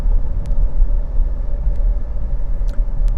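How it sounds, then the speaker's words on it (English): A 2016 Dodge Journey SXT AWD with a 3.6 liter Mopar engine runs smoothly. A constant deep rumble and hum carry on throughout, with a few faint sharp ticks over the top. "The motor is purring like a kitten."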